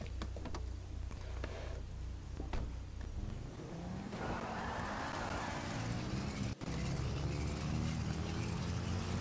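A car engine drones in Grand Theft Auto V, a steady low rumble that deepens and grows busier partway through, with a single sharp click near the end.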